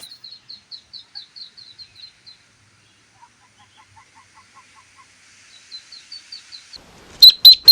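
Ducklings in a bucket give rapid series of high, thin peeping chirps in short bursts, with a quieter, lower run of peeps in between and a few loud, piercing calls close by at the end.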